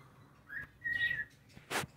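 A green parrot chick gives thin, high whistled calls, a couple of short faint notes followed by a brief sharper chirp, close and alone in a quiet room.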